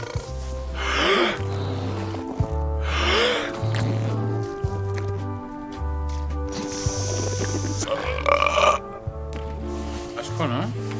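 Cartoonish belching in a burping contest in the Return to Monkey Island video game, several loud burps mixed with a bouncy musical score and character voices.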